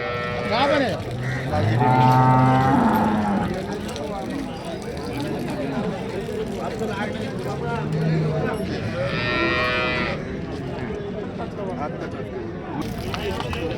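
Cows moo loudly and close at a cow and buffalo market, one long call early and another later, over steady crowd chatter and people talking.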